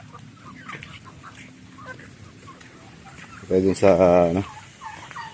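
Chickens and turkeys cluck faintly under a low background murmur, then a loud, close turkey gobble bursts out for about a second, with a voice briefly speaking.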